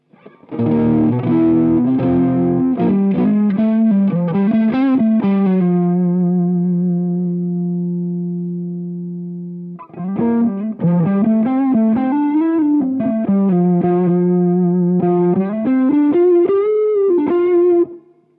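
Electric guitar through a Fender Hammertone Overdrive pedal with a thick, gritty driven tone playing a phrase, holding a long sustained note, then resuming with chunky notes; loud and alone.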